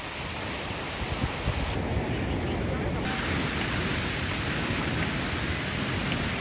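Heavy rain pours down at a waterfall near Hyderabad, a dense and steady roaring hiss that fills the whole scene without a break.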